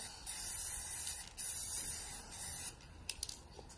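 An aerosol can sprays paint outdoors in several short bursts, each a close, steady hiss separated by brief pauses, with no voices.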